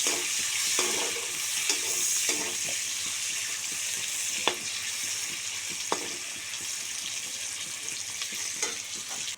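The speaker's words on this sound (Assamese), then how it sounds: "আৰু চাওকচোন এয়া পিঁয়াজখিনি ভাজি লৈছোঁ।" Onions frying in a pan for an Assamese paneer dish, a close, continuous sizzle with occasional clicks and spatters, no voices.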